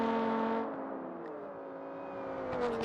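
Formula Three race car engines in a racing video game whine steadily at high revs, a smooth sustained tone that dips slightly and climbs back, heard alone without talk.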